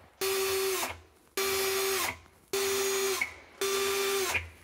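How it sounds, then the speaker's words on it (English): A power drill boring pilot holes in a cabinet runs in four short bursts of about a second each, whining at a steady pitch with brief pauses between. "drill for your pilot holes"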